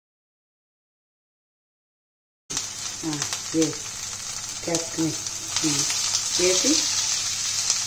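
Capsicum masala curry with onion and tomato sizzling and frying in a pan, a steady hiss with intermittent stirring clatter, starting after a silent opening, while someone speaks briefly over it.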